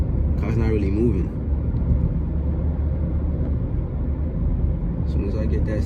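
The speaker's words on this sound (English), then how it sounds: "the clutch ain't keeping up with the engine. So I gotta floor it. You hear these revs" An Acura TSX (CU2) engine with a slipping clutch revs hard under full throttle, a loud sustained rumbling drone throughout, with a person talking over it.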